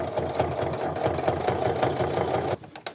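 A sewing machine top-stitching fabric for a tote bag runs in a steady, rapid mechanical rhythm close by, then stops abruptly near the end, followed by a few soft clicks.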